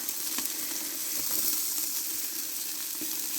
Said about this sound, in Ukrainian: Бачиш, як добре смажиться.